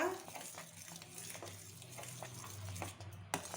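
Semolina (rava) being stirred in a pan for a sweet, a faint, soft scraping and stirring under a quiet kitchen hum, with a low gentle sizzle and a small clink near the end.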